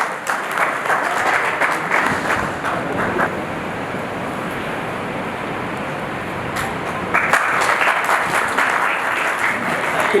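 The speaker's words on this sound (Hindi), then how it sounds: "जोरदार तालियों से इनका स्वागत होना चाहिए।" Sustained applause from an audience welcoming honoured guests at a public felicitation ceremony in Rajasthan, a steady dense clatter of clapping throughout that swells louder near the end.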